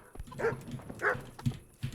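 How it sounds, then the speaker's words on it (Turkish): A dog in the medieval role-playing game Kingdom Come: Deliverance gives two short barks about half a second apart, moderately close, over quiet game ambience. "Tamam burada bir köpek."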